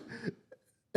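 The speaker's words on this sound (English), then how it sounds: "I seem to have a cough, so I'm just going to cough again." A person coughs during a podcast interview, with one rough cough, a brief faint sound after it, and then a sharp, loud second cough at the end.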